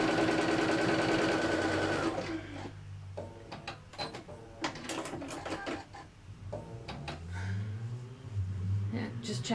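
A domestic sewing machine runs a steady stitching burst on fabric for about two seconds, then falls to scattered clicks, handling noises and short mechanical whirs while someone talks over it.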